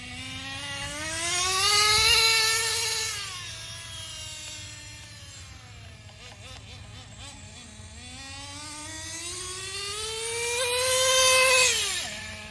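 A Team Associated NTC3 RC car engine runs with a buzzing, harmonic whine that swells and sinks through two long revs, its pitch climbing and falling, heard fairly close with no talk.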